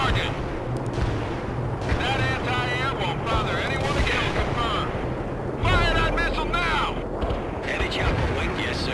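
Artillery fire booms through a World in Conflict battle, heavy blasts and rumbling explosions running across the stretch beneath radio-style voices talking over the action.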